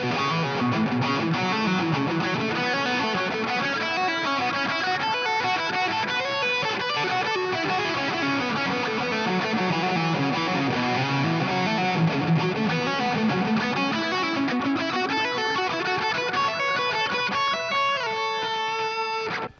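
An Epiphone Les Paul electric guitar plays fast distorted pentatonic shred licks, a dense, steady stream of notes at moderate loudness with no talking.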